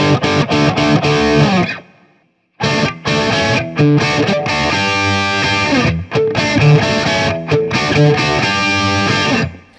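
A loud distorted Epiphone Les Paul Special Double Cut electric guitar plays chunky classic rock riffs with short pauses between phrases, including one brief silent gap.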